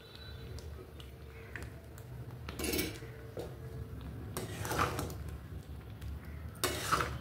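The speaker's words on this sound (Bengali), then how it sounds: "এবার ভালোভাবে নেড়ে দিই" Mango jam cooked with jaggery is stirred in a pan, a quiet scraping and clinking of a utensil against metal that comes in intermittent louder bursts over a faint background.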